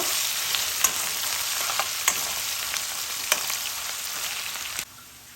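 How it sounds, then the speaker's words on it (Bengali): Chopped ginger frying in oil for a Bengali mixed-vegetable labra, a steady bright sizzle with a few spaced scraping stir strokes, cutting off abruptly near the end, with no talk. "কুচিয়ে নেওয়া আদা আদাটাকে দিয়ে তেলের সাথে আরেকটু ভেজে নেব"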